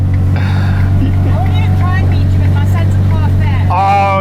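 A Novitec-exhausted Ferrari 812 N-Largo sits close by with a steady, deep, loud engine rumble that runs throughout, while people talk over it.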